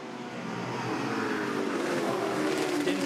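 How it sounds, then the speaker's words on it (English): Race cars roar past at Bathurst during a Touring Car Masters race, a Camaro and an AMC Javelin among them, their engines rising in a loud, building wail. "There's Jimmy Richards in that AMC Javelin trying to chip his way up through the order."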